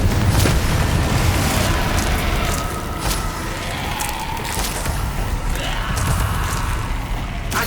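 Confringo explosive spells from Hogwarts Legacy bursting in a dense, loud wash of blasts and rumble that stays thick throughout, with sharp cracks layered over the roar.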